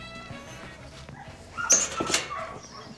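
A sheepdog working on a farm whimpers and yips in short, high bursts close by, with quiet background noise and no talk.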